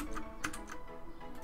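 A computer keyboard typed on right beside a microphone, a few sharp close clicks in an irregular burst, one keystroke louder than the rest, with no talking.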